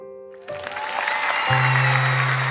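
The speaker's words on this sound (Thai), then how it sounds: "เสียงปรบมือด้วยนะครับ" Applause from an audience after a Thai luk thung song performance on a stage show, beginning as a tonal musical note fades and swelling into sustained clapping under a low held tone.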